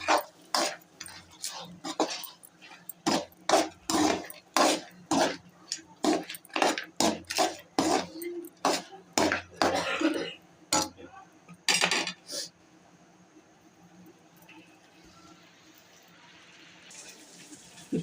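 A metal spatula scrapes and clanks against a pan while mutton fried rice is stirred and fried, a rapid run of sharp rhythmic strikes for about twelve seconds, followed by a quieter background hiss.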